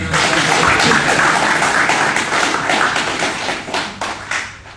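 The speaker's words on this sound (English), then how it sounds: "Clap them no man." A crowd claps at a football press conference after a Jamaica Premier League match, with dense, steady applause that stays loud and close throughout and thins slightly toward the end, with a few sharper individual claps.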